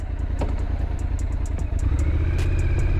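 Triumph Scrambler 1200X twin-cylinder engine idling close by, a steady pulsing throb with light mechanical clatter, growing slightly louder and fuller partway through.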